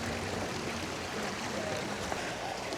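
Water pours steadily down through St Pancras canal lock, a constant broadband rushing and churning that stays even and unbroken throughout, heard from close by with no voices.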